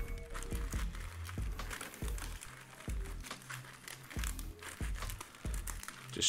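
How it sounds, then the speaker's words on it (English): Pokémon card booster packs, Time Gazer and Space Juggler, shuffled by hand, giving repeated crinkly foil rustles and soft slaps in bursts, close and fairly quiet, with no talking. "Just trying to shuffle these out a little bit."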